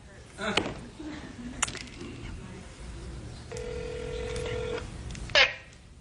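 Telephone keypad tones sound while a voicemail system is being called. A few short beeps stand out against a quiet phone line, with a longer steady tone in the middle and a sharp final blip.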